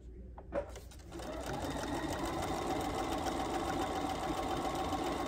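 A sewing machine runs steadily after a brief start, its motor and needle whirring at a constant pace for several seconds, close and moderately loud, with no speech over it.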